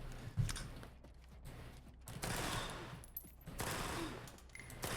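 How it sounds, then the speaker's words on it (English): Rapid submachine gun bursts in the video game Stalker 2, several quick volleys of automatic fire with pauses between, moderately loud against a low background hum. "I kind of like how fast it shoots"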